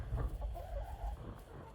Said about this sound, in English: That's my 7 hens and 1 rooster.